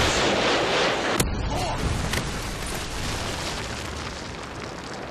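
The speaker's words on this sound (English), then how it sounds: "Friendly Predator missile incoming." Heavy explosions and booms from a Predator missile strike in the video game Modern Warfare 2, a sharp blast followed by a dense, sustained rumble of detonations and debris, loud and close throughout.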